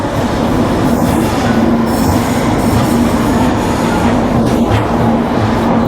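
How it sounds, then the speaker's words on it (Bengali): Bengaluru to Chennai double-decker express train pulling out of KSR Bengaluru City Junction, heard from inside: a loud, steady rolling rumble with faint wheel squeal and no break throughout. "আমাদের ট্রেনটি চলতে শুরু করলো চেন্নাইয়ের উদ্দেশ্যে"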